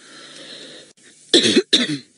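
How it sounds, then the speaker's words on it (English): Two harsh, close coughs in quick succession after a soft hissy background, loud and abrupt. "Sorry for the cough, everybody."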